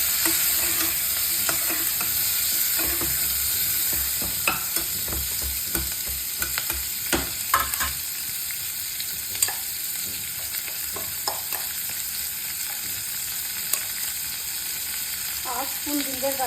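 Chopped onions fry in hot oil for Sindhi pakoda, kept pale rather than browned: a continuous close sizzle under frequent scraping, clinking stirs of a spoon in the pan, louder in the first half and settling lower later, with no speech.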